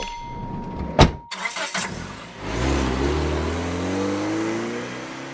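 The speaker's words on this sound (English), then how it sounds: "we got our engines revving at K1 Speed in Buffalo Grove" A loud sharp click comes first, then a few bursts, and then an engine revs up into a sustained rising drone, like go-karts at the K1 Speed indoor track in Buffalo Grove.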